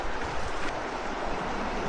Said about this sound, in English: It's a creek. It looks like you can walk in it.